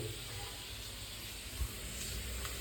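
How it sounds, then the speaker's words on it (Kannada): Steady hiss of steam escaping a pressure cooker on the stove while cooking rice, continuous and fairly loud with no whistle yet, alone without voices. "ಕುಕ್ಕರ್ ಅವಾಗ ಸೀಟಿ ಹೊಡೆಯಲಾಗ್ಯದ"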